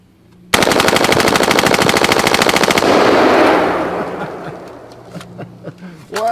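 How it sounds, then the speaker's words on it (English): A machine gun fired on full auto, a loud close burst of rapid, evenly spaced shots lasting about two seconds, followed by a fading echo and scattered clinks, with no talking. "Now, do we want to shoot it semi or full auto? Yeah, let's go full auto."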